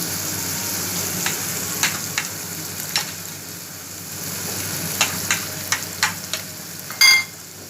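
Tomatoes, onions and mashed eggplant frying in a pan for baingan bharta, a steady close sizzle broken by periodic sharp scrapes and clinks of a spoon stirring against the pan.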